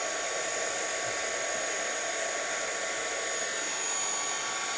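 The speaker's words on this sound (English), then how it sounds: "I'm going to put my embossing tool on and I'm going to get it hot" Embossing heat tool used for card-making stencils, heating up with a steady, loud blowing whir that holds constant throughout without pause.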